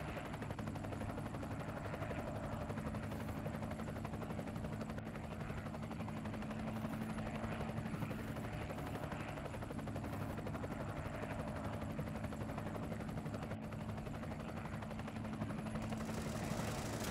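Aircraft engine in a tank battle video game, a constant loud droning rotor-like hum that holds steady for the whole stretch with no pauses.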